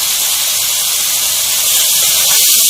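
Chicken roasts in oil in a pan with garam masala, cumin and coriander powder for an Afghani karahi. It gives off a loud, close, steady sizzling hiss with no pauses and no voice.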